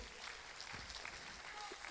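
A church congregation claps during a Sunday service, a faint, dense patter of many hands that runs steadily, with a few voices mixed in.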